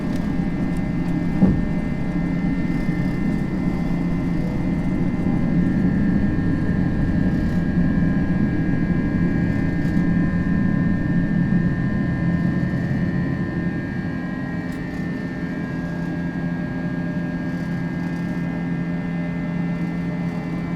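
A simulated Airbus A321 in the FSLabs flight simulator takes off, a steady loud engine roar holding for about twenty seconds and easing slightly toward the end.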